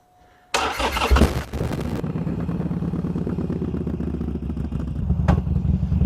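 A 2011 Harley-Davidson Sportster motorcycle cranks and fires up close and loud, revving briefly before settling into a steady, lumpy idle.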